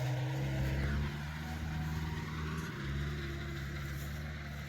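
Sugarcane cart vehicle engine straining under load as it tries to pull out, a steady heavy low drone with a slight rise and dip, loud and close.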